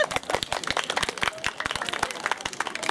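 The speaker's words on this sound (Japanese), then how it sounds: "今から拍手の練習からスタートしますですね。" Audience clapping at an autumn festival held jointly by a day-care and rehabilitation centre, a steady patter of many hands at close range that stays fairly dense throughout, with some voices mixed in.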